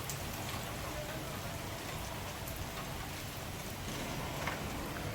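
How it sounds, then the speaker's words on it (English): Rain falls steadily during a thunderstorm with gusty winds in Frisco, Texas, an even hiss of drops hitting surfaces outdoors, moderately quiet and continuous throughout. "Look at the rain."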